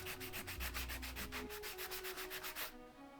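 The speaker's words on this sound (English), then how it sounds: "If you don't like to see people's faces erased by an abrasive surface," Small toy chick's face being sanded against an abrasive surface in quick repeated rubbing strokes, a rhythmic scratchy scraping that stops abruptly near the end, close and fairly quiet.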